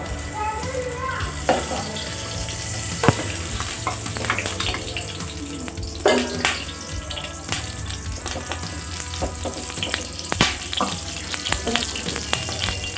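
Rice fries in hot ghee for sweet zarda, crackling and sizzling continuously while a spoon scrapes and stirs, producing irregular clattering knocks over the steady fry.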